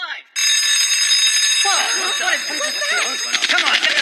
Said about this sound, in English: Come on, get the alarm.